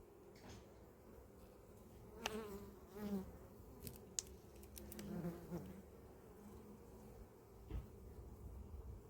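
Honey bees at an apiary hive drone continuously in a faint, close buzz, with scattered soft knocks and clicks from the hive frames and no voices.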